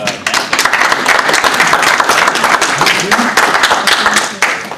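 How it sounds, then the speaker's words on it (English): Audience applause greets a speaker at the BSides Buffalo 2026 security conference, a dense, steady burst of many hands clapping together, fairly loud and close, with faint crowd voices mixed underneath. "let's give a round of applause to Christopher Bruns."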